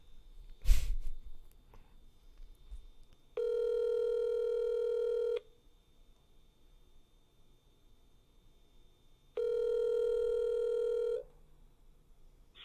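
A phone call rings out on the line: two long electronic ringback tones a few seconds apart over near silence, after a brief soft breath or sigh at the start.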